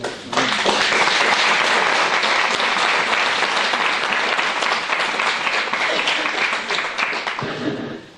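A church congregation applauds loudly and steadily for about eight seconds, a dense sustained wash of clapping from many hands that tapers slightly at the end.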